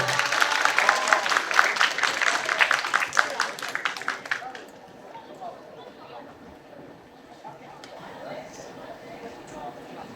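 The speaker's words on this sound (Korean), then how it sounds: "큰 박수로 아로스 TV님을 모시도록 하겠습니다" Applause from a school lecture audience greeting a guest speaker, dense clapping for about four seconds before fading into quieter room noise and murmurs.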